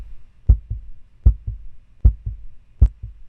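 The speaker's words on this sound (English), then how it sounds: "hearing the heartbeat of the avatar we share our position with" Heartbeat sound effect for a virtual reality avatar: four evenly spaced lub-dub pairs, low and thumping, close and clear with nothing else around them.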